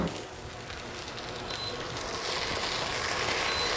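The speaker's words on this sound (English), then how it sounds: "I'm going to add these peppers and onions to my pan" Peppers and onions dropped into a pan of melted butter give a steady, loud, hissing sizzle that holds throughout and swells slightly in the second half, with no voices.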